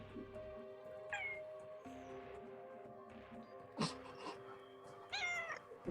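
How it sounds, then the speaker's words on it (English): A cat meows several times, with short rising and falling cries spaced a second or two apart, close and fairly clear, over a quiet background with a low steady hum. "We let a cat on this ship."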